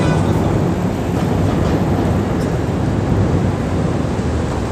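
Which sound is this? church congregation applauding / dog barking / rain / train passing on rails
train passing on rails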